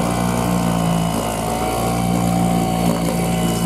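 Sharmax 4 hp two-stroke outboard boat motor on a 1:25 fuel mix, running evenly at half throttle during break-in, a loud, steady close-up drone with a constant low throb throughout.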